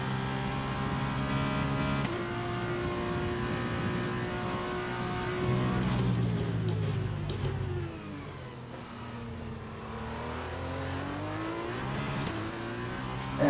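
Race car engine in the F1 2020 racing game, revving and climbing through gears with a steady loud whine that drops and rises again, continuous throughout with no talking.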